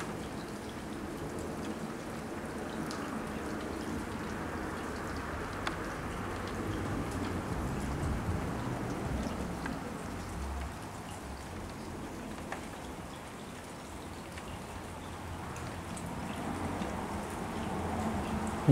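Light monsoon rain patters steadily on a patio, a soft continuous wash of drops with no talking.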